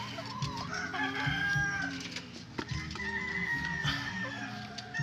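White Leghorn chickens crossed with Barred Plymouth Rock, clucking and murmuring in a close, busy flock, with overlapping calls and a few sharper squawks over a steady farmyard background.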